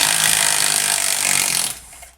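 A Milwaukee M12 screwdriver grinds steadily as it backs a lag bolt out of wood, a loud, rough, continuous whir that winds down and stops after about two seconds.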